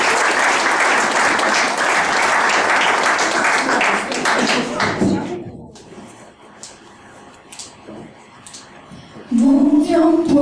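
An audience applauds at the opening of an artists' cellar club as a band is called to the stage. Dense, loud clapping runs for about five seconds, then thins and fades under scattered voices, with a voice rising at the end.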